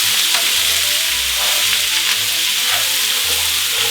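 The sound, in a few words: onions, carrots and filet mignon sautéing in a pot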